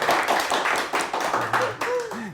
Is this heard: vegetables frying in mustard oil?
no